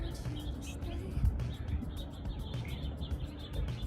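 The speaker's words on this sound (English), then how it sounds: "Can you hear them? All the finches." Finches chirp at backyard bird feeders by a shoreline, quick high tweets scattered over a breezy outdoor background, fairly faint and with no talking.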